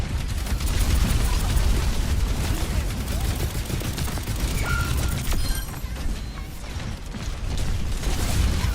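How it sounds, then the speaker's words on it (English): Rapid gunfire in a video game rattles in dense overlapping bursts aimed at a tank, with mechanical clanks and clatter mixed throughout, loud and continuous. "They have got to stop shooting the tank."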